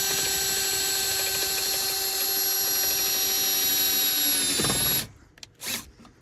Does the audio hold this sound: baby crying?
no